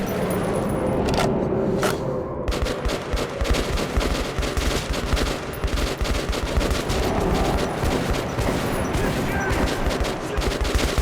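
Rapid gunfire in Metro 2033 Redux pours out in a dense, nearly unbroken fusillade of loud, close shots, with bursts blending together throughout and only the briefest gaps near the start.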